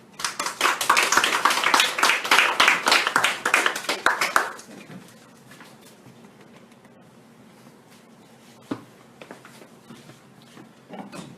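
A church audience applauds to welcome the Rev Daniel Payne at a sermon: dense, loud clapping for about four seconds, then fading into scattered faint claps and room noise.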